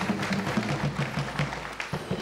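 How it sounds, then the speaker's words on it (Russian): Studio audience at a Russian Lotto television draw applauding in steady rhythmic unison, moderately loud and a little distant, with a low voice underneath. "И слушайте, как все аплодируют вам."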